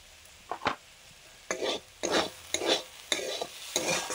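Dal with turmeric is stirred in a cooking pan, giving a series of distinct scraping strokes about every half second over a low, steady sizzle, close and clear with no talking.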